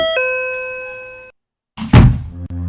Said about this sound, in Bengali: একদিন সকালে কলিং বেল বেজে উঠল